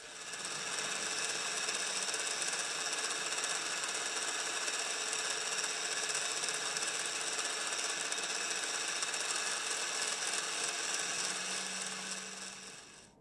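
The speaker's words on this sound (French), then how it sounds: "on va pouvoir percer les 3 points de centre qui vont nous servir à excentrer notre brut" A machine drills centre points into a metal blank meant for a two-throw crankshaft cut from solid stock, giving a steady, fairly quiet mechanical whir with a constant tonal hum and no voices.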